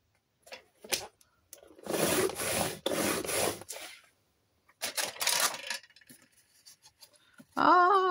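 A worn paper trimmer blade rasps and scrapes through paper in short uneven strokes, close and fairly quiet, with pauses and small clicks between cuts.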